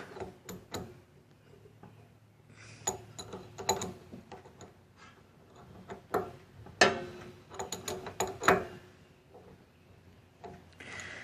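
Metal wrench clicking and scraping against a riding lawn mower battery terminal as it is tightened, a close series of sharp ratcheting ticks and knocks in uneven bursts, with no talking.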